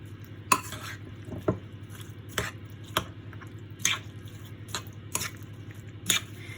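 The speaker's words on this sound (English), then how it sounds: "I'm just going to stir this." Mince pie filling with rum and marzipan is stirred in a bowl: a steady run of wet, squishy strokes with light knocks against the bowl, roughly twice a second, close by with no talk.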